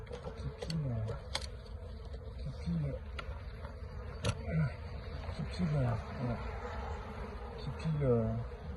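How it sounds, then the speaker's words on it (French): Honeybees buzz and hum in short swooping bursts while robbing an abandoned hive, several passing close while a low drone and faint background noise continue. "pillent la ruche. Donc au moins elles prennent ce qu'il y a encore de bon à manger."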